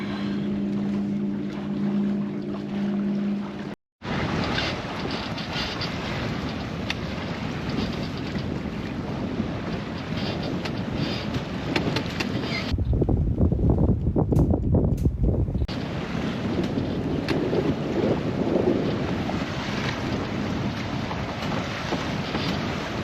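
Wind buffets a microphone on a moving motorboat out on open water, a loud continuous roar over engine and wave noise, briefly cutting out and then gusting harder midway, with no voices.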